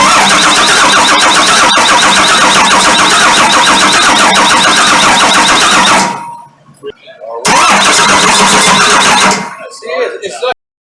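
Loud, close diesel clatter from a Cummins engine fitted in a Ford truck, running steadily then dropping out, catching again for a few seconds and shutting off, with voices talking nearby.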